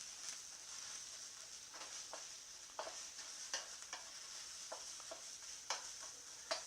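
Thick-cut onions heating in a pan give a quiet, continuous sizzle, broken by scattered soft stirring scrapes and taps.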